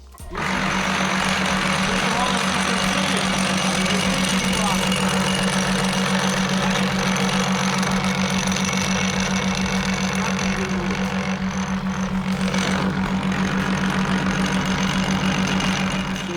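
A homemade vibrating table for setting tiles runs continuously, a loud, steady motor hum with a fast rattling buzz throughout, while someone speaks over it.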